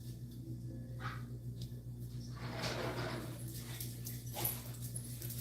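Dogs at a window whimper and whine indoors, a few high, thin cries rising and fading over a constant low household hum, with no speech.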